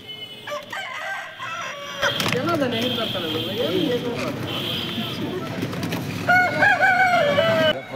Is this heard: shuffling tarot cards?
no